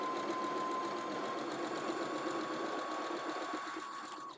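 A sewing machine runs continuously at an even speed while stitching fabric ties for an off-shoulder top, a faint close mechanical hum and whir that slows slightly at the very end.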